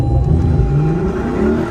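A widebody Lexus LC500 engine revs up close by, a loud, rising throaty whir that climbs in pitch over a short burst.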